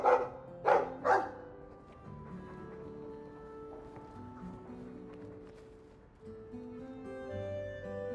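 A dog in the video game Dragon Age 2 gives three quick barks close by, followed by a soft, low musical background that carries on alone.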